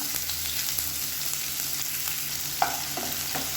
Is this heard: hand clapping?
no